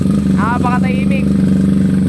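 A 225cc liquid-cooled motorcycle engine runs without coolant water, a loud, steady, close mechanical drone that holds throughout while someone briefly shouts over it.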